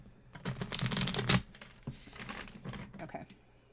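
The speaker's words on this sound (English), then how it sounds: "Cards do not want to shuffle tonight." Tarot cards being shuffled by hand late at night, a run of papery riffling and crinkling bursts that are loudest early on, then come back in softer, scattered flicks.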